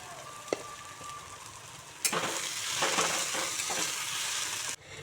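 Spice paste for ghugni frying in a pan with salt and chili powder, a steady close sizzle with stirring scrapes and a few sharp clinks of a utensil against the pan.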